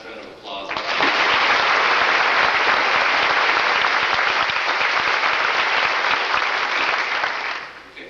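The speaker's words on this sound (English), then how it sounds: "Let's give the girls varsity basketball team a nice round of applause." An audience at a 1987 high school senior honors night in Gallatin, Tennessee applauds the girls varsity basketball team, a loud, steady wash of clapping that starts abruptly, holds for about seven seconds, and tapers off at the end.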